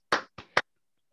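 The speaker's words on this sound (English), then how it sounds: "I'll clap on behalf of the muted many" A single person claps hands three times in a quiet lecture room, sharp and sparse, the last clap slightly louder, then silence.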